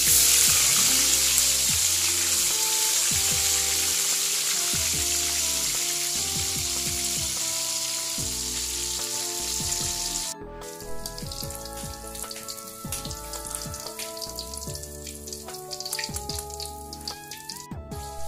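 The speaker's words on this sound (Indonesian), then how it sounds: "sampai goreng lagi sampai habis ya" Tofu fries in hot oil for an Indonesian dish, giving a steady close sizzle that turns into sharper, busier popping and crackling partway through.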